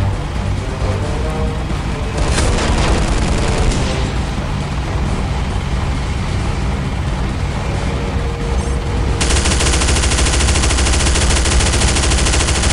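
Sustained rapid automatic fire from a turret in Counter-Strike: Condition Zero Deleted Scenes, loud and close, with bursts and booming impacts running continuously before the firing grows denser and harsher near the end.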